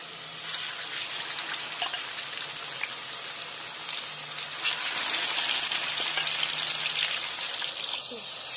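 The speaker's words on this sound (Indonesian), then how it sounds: "goreng ikan yang telah diperah 1 jam" Fish that has been marinated for an hour fries in a pan of hot oil for a curry, a continuous close crackling sizzle that grows louder partway through, with no talking.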